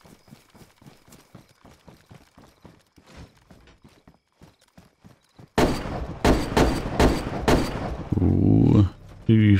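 Shots ring out in a DayZ game session, a rapid string of loud, sharp bangs following a long stretch of quieter rhythmic footfall-like clopping, with a voice speaking over the end.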